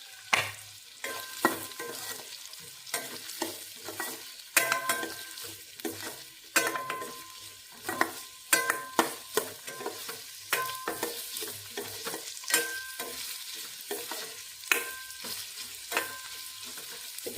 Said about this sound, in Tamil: பூண்டு நல்லா லேசாக வதங்கின உடனே வெங்காயம் போட்டுக்கலாம். ஒரு பச்சை மிளகாயையும் சேர்த்து போட்டுக்கலாம்.